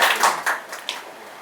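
Applause from an audience at an honouring ceremony in an Urdu cultural hall, a brief burst of clapping with a few sharp individual claps standing out before it thins and fades.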